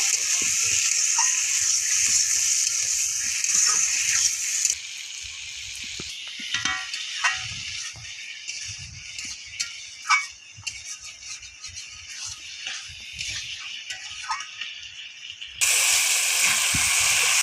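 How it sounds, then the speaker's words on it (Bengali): Cut potatoes fry in a pan for a Bengali fish curry with bori, giving a loud, steady sizzling hiss with intermittent clinks and stirring scrapes. The hiss drops in the middle stretch and then surges again near the end. "আলুটা ভালো করে ওর সাথে কষিয়ে নেব।"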